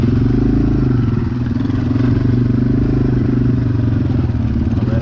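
A Honda XR dirt bike running on non-ethanol fuel on a Capitol Forest trail, its engine a loud, close, steady drone with a rough mechanical rattle throughout.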